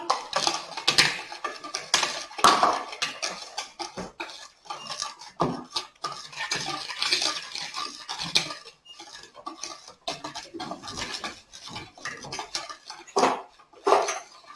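A spoon or utensil clatters and scrapes rhythmically against a bowl while egg is worked into Christmas biscuit dough, close-up and irregular, with bursts of stirring and knocks.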